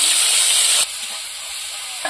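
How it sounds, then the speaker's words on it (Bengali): Prawns frying in a pan give off a loud, bright sizzle that drops to a quieter, steady hiss after about a second, with a small clink near the end. "চিংড়ি মাছটা ভেজে নেব।"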